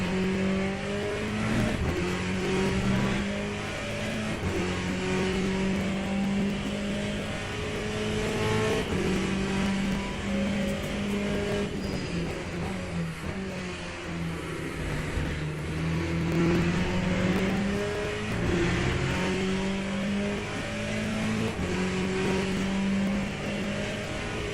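Sustained GTE race car engine from Le Mans Ultimate at Bahrain, droning steadily with rising and falling pitch through gear changes, loud and continuous with no talk.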